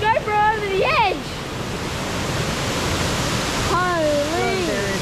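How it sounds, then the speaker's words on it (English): A small waterfall in a Far North Queensland rainforest pours with a steady, close rushing hiss throughout, while people's voices come and go over it. "There is another little waterfall just there."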